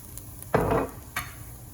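A spoon stirs keto chicken lettuce wrap filling in a hot pan, two short scraping strokes over a quiet sizzle.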